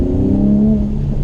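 A Mercedes-AMG C43 with its 3-liter six-cylinder engine revving in a steady, loud drone with a high-pitched gear-like whine layered over it, sustained and close, no voices.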